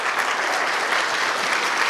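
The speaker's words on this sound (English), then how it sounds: "Can you give her a round of applause?" A crowd applauds Patty Kim at a school benefit breakfast, a steady, dense wash of many hands clapping close by for two seconds with no talking over it.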